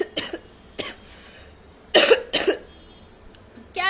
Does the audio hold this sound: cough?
yes